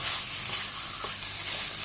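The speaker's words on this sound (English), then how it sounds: "I've been frying this for 4 to 5 minutes." Chicken fries with masala in a pan for a chicken gravy, giving a soft, steady sizzle that stays fairly quiet throughout, with no voices.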